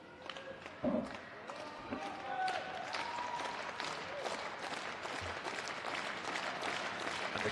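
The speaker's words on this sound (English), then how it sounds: "The crowd are getting right behind this here" Wrestling crowd in a Belfast arena applauding and cheering, a dense continuous wash of clapping and shouts with voices mixed in, steady and fairly loud throughout.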